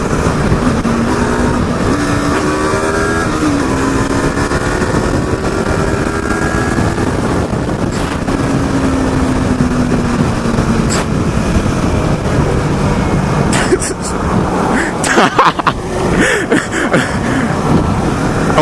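Steady, loud drone of a Yamaha R3 sports motorcycle engine running throughout, with wind rush and a few brief knocks near the end.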